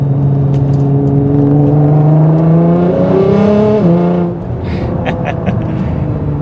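A Nissan GT-R R35 accelerates through turns, its engine loud and near as the revs climb steadily through a gear, then drop sharply at a shift before easing off.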